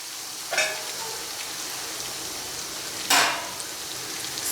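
Shallots sizzle and fry with onion, brinjal and okra in a pan for a Kerala sambar, a steady close crackling hiss with two louder bursts of spatter as pieces are stirred or added.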